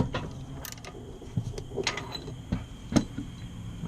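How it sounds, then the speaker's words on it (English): A ratchet works a socket on the oxygen sensor of a 1998 Nissan Frontier, giving faint scattered clicks and metallic ticks that come in short irregular bursts against a quiet garage background. "we'll just place a ratchet onto the socket and we'll proceed to loosen our oxygen sensor."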